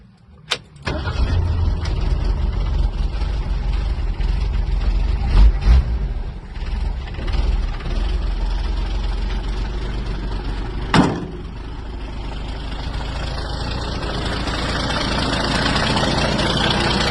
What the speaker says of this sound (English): Nice little exhaust leak.